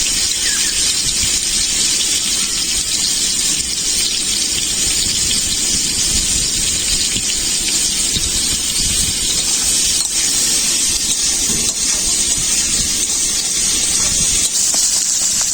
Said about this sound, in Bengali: উচ্ছেগুলো ভাজা হয়ে গেছে, এরপর নামিয়ে নেব।